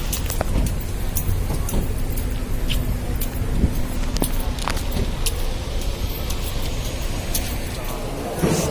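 Busy street traffic near a fish market in Jeddah, a constant roar of cars and buses with scattered clatter and people talking over it.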